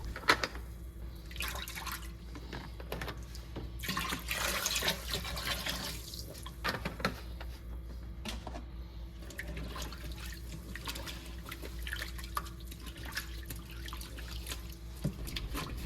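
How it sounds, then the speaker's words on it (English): Tap water runs and splashes into a basin to cool it for cleaning polishing pads, a continuous watery rush with shifting gurgles and drips over about sixteen seconds. "I'm going to want to cool down this water"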